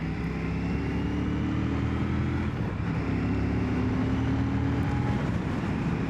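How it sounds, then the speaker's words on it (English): A 2025 Royal Enfield Classic 650 twin riding up a country lane, its engine giving a steady, even low drone with wind rush, continuous and fairly close, no talk. "Yeah, it's a lovely engine."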